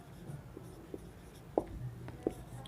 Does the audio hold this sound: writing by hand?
yes